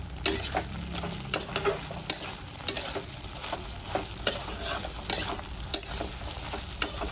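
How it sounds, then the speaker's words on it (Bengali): Chopped tomato with spices sautéing in a pan for a vegetarian vegetable dish, with a steady close sizzle and repeated sharp spatula scrapes and stirs at an uneven rhythm, no voices. "আমি একটা টমেটোকে ছোটো ছোটো করে কেটে দিয়ে নিয়েছি। এবার খুব ভালো করে কষাতে থাকবো।"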